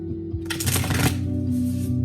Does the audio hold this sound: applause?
no